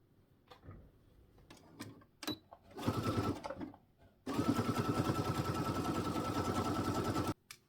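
A sewing machine stitches a fabric book sleeve, opening with a few quiet handling clicks, then giving a short burst of rapid stitching and a longer steady run of fast, even stitches before stopping abruptly.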